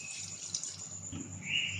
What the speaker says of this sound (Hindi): अब इसको हिलाकर चिकन में डाल देंगे